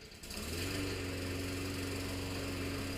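A repaired lawn mower engine, with newly welded handles, starts and then runs at a steady loud drone, close by and uninterrupted, with no talk over it.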